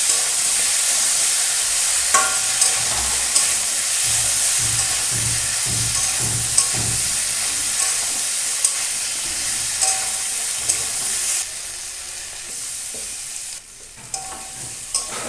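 A ground ginger and cumin paste fries in a hot pan with a steady sizzle, while a spoon stirs and scrapes through it in repeated strokes, loud and close.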